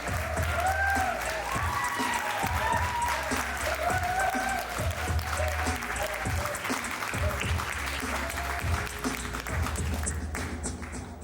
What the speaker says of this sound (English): please make some noise for Jules coming to the stage